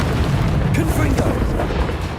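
A Confringo fire spell explodes during a Hogwarts Legacy duel, a loud rumbling burst under a shouted incantation, with dense low booming throughout.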